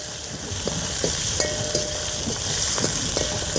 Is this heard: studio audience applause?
no